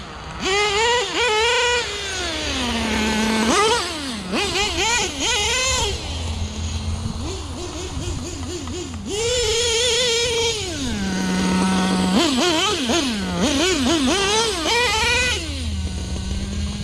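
A Losi LST nitro RC truck with major carburetor trouble, running lean, screams through repeated high-pitched revs that rise, hold and drop back to a buzzing idle, loud and close with no talking.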